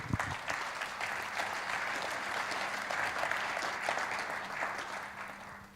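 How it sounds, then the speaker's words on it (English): A conference audience at a Rotary district gathering gives a round of applause, steady and moderately distant clapping with a faint crowd murmur that carries on evenly for several seconds. "Give Ingrid a round of applause"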